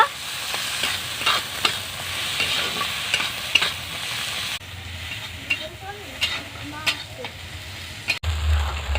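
Ground chilli, turmeric and salt being fried and stirred for a snakehead fish curry, repeated scraping stir strokes over a steady sizzle, close and moderately loud, with a brief low knock near the end.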